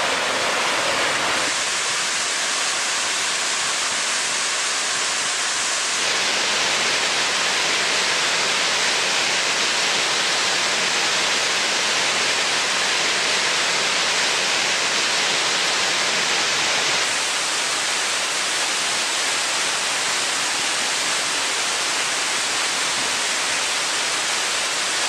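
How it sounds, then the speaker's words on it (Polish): A waterfall at Shaki in Armenia gives a steady, loud broadband rush of falling water that fills the whole stretch without a break, with no voices over it. "w której podobno znajduje się piękny wodospad"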